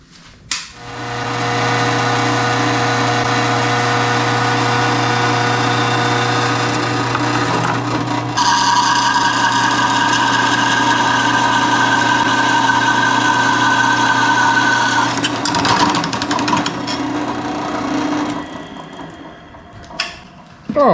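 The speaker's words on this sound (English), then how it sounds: "so let's go drill a couple holes in it" A drill bores holes into the intake tube for an LS engine swap, a loud, sustained mechanical whir that shifts pitch partway through before winding down, with no talk.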